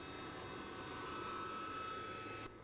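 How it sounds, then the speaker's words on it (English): A Harrier GR7 fast jet flying at an RAF air show, heard as a steady, distant engine roar with a high whine running through it for a few seconds. "The Harrier GR7 is the latest variant in this thoroughbred of fast jets"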